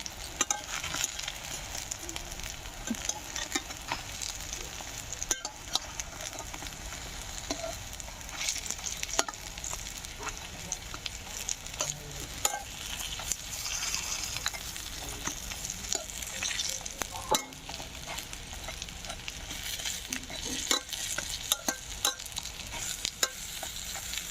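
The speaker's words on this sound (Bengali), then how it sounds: "এইভাবে উল্টে পাল্টে বড়াগুলো আমি ভেজে নেব।" Pea fritters sizzling in hot oil, an even, persistent frying hiss with sharp spattering pops and utensil taps as they are flipped, close up and with no voices.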